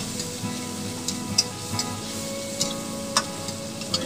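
Chopped onion and tomato fry gently in spiced oil for a vegetable biryani. A soft, steady sizzle runs throughout, with occasional light ticks and pops.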